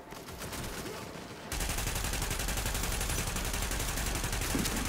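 Sustained gunfire from The Division, a dense rapid burst that jumps louder partway through and then continues steadily, with no voices over it.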